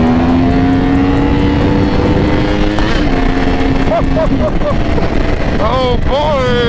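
Yamaha sport motorcycle revving hard and pulling second gear wheelies, its engine whine rising and falling through several sharp throttle blips, heard close over heavy wind roar.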